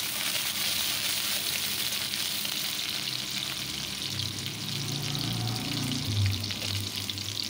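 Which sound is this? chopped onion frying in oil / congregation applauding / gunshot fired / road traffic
chopped onion frying in oil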